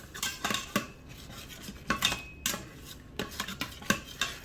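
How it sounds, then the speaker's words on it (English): Spatula edge scraping browned fond off the metal bottom of an Instant Pot while making pulled pork, a series of close, rough scrapes and clinks in irregular bursts with short quiet gaps between, no voices. "take the edge of my spatula and just work off all that fond. Scrape it all up."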